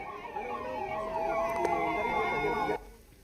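Emergency vehicle sirens at a mock war-preparedness drill in Ranchi, with an ambulance and a fire brigade truck present; a steady, loud wailing siren sweeps continuously for almost three seconds, then cuts off abruptly, leaving quieter background noise.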